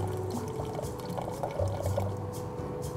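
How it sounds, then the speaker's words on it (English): Water poured into a pan of sugar and corn syrup, a steady soft trickling stream close by, with no talking. "So I'm gonna just add enough water to hydrate all the sugar in here."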